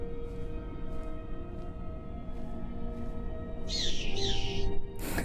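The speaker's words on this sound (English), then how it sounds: "That doesn't sound like a real eagle." A video game eagle lets out a few sharp, synthetic-sounding screeches in quick succession near the end, over a steady low game background hum.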